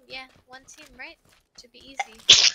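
A single sharp sneeze from a player during a duo shooter game session bursts out at the end, loud and close, right after casual talk between players.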